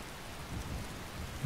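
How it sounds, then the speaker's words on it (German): Steady rain in the video game Skyrim falls with a low rumble beneath it, a soft, even patter that stays faint and continuous. "Und es fängt schon wieder an zu regnen."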